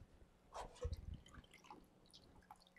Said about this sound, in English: See, there's water running out of here, and when I'm pushing it, even more is coming out.